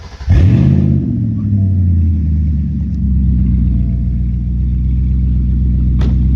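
A 2004 BMW 545i engine, mid-repair for a thermostat replacement, fires up with a loud crank and rising burst, then drops into a steady, deep running idle heard close by for several seconds.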